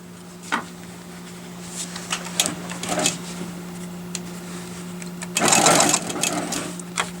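Longarm quilting machine stitching a quilt border: a steady mechanical hum under bursts of rapid needle clatter, loudest in one sustained run near the end.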